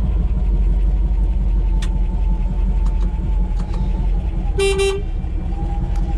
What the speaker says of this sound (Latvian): Strādās skaņas signāls.